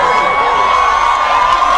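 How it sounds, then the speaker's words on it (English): A large crowd cheers and shouts in a steady, loud roar that holds without a break from start to finish. "Yeah, then they cheer."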